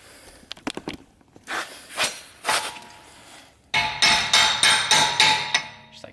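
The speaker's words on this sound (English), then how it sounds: "Use a brass punch so it doesn't hurt the metal." A hammer strikes a brass punch against a strut nut on a 2010–2011 Saab 9-5 Aero front suspension, first in a few scattered hits, then a rapid run of about eight loud, ringing metallic blows close up.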